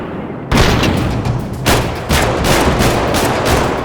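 Gunshots ring out in the video game GTA 5, a loud, close burst of sharp reports over a dense rumbling background, with a renewed cluster of shots partway through.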